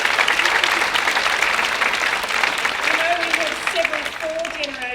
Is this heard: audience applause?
yes